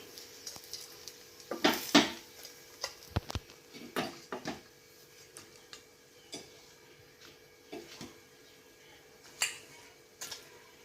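Banana kuzhi paniyaram is lifted out of the pan, with sharp metallic clinks and scrapes of utensil against the pan spread irregularly over a quiet background with a faint sizzle.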